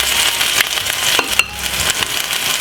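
A steak fries in a hot pan with a steady, close hiss and crackle, broken by a few light scrapes and clinks of the pan; no speech.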